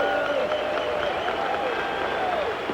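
A baseball stadium crowd at the end of a Cubs at Mets game, a loud sustained roar of cheering and applause filling the air with a continuous wash of noise.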